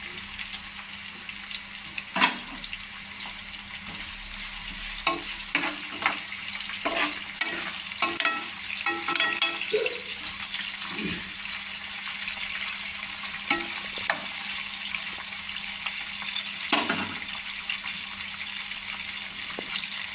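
Curry leaves and green chillies frying in hot oil for a tempering, a steady crackling sizzle with intermittent sharp pops and spoon scrapes running throughout, no talking.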